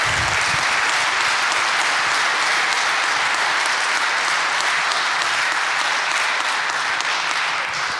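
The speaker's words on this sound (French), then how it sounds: "Je propose juste qu'on l'applaudisse." Dense, sustained applause from a large audience at a conference plenary, steady and loud for the whole stretch without letting up.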